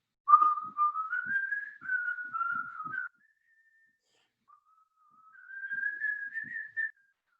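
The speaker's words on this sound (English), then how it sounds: "then I heard in front of me the sergeant whistling" A man whistles a German song as a slow, wavering melody, pausing briefly partway through before the tune resumes; clear and fairly close, with no talking.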